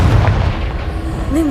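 An explosive fire spell cast in the video game Hogwarts Legacy bursts as a loud booming blast in the low end, followed by a short rising whoosh tail near the end.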